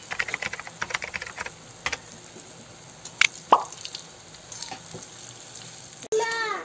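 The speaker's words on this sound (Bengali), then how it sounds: "বড়া ছাড়িয়ে দিছি।" Vada lentil dumplings dropped into hot oil one after another, soft plops and crackling sizzles over a steady frying hiss, close and moderately quiet.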